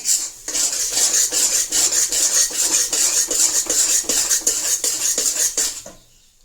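Flour dry-roasting in a pan for traditional pak ladwa, stirred until golden, gives a loud close rhythmic scraping of spatula against metal that repeats steadily, then stops near the end.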